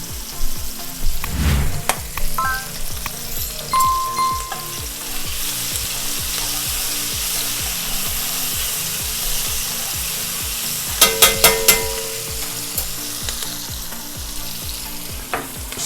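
Onions fry on a Blackstone griddle with a steady loud sizzle throughout, broken by scraping and stirring clanks from a spatula and a brief metallic tapping burst near the end, with no talking.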